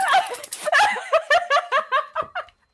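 A happy dog vocalizes close up in a rapid series of excited yips and whiny barks, about a dozen short bursts in quick rhythm that taper off at the end.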